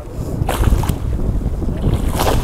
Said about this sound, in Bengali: বন্ধুরা সেই দূরে দেখতে পাচ্ছ একটা কিন্তু ট্রলার যাচ্ছে এখন মাছ ধরতে